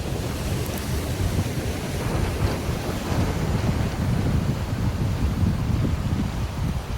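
Wind and sea waves roar together at the shore in a steady, loud, unbroken wash of noise, with wind buffeting the microphone and no talking.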